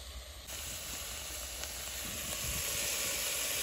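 Bacon and leftover barbecue meat fry on a small alcohol stove at a riverside campsite, giving a loud, continuous close-up sizzle and hiss that holds steady throughout with no talking.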